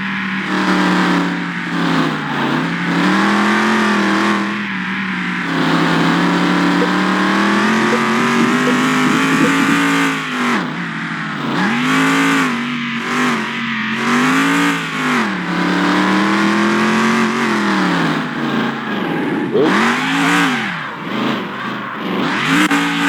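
A 1972 Plymouth GTX driven on a test track in Car Mechanic Simulator, its V8 engine loud and close, revving up and down through gears in steady rising and falling sweeps.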